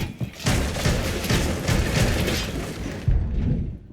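Shotgun fire in Rainbow Six Siege, heavy close booming blasts rolling into a thick wash of gunfire and debris, with a fresh loud shot near the end before the sound cuts off.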